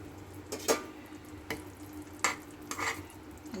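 Pieces of fish go into a pan of simmering dairy milk on a home stove, giving a few soft splashes and light clatters spaced about a second apart over a low, steady bubbling hiss.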